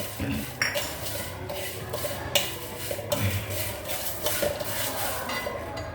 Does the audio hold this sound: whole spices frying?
yes